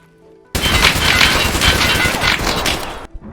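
Video game gunfire on the Labs map of a horror shooter, a sudden loud sustained burst of rapid automatic shots lasting about two and a half seconds, close, then cutting off into quiet.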